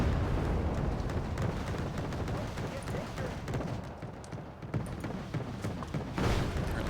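Battle din from the real-time strategy game Wargame Red Dragon: units firing and explosions go off as a dense, continuous rumble of booms and cracks, loud and unbroken throughout.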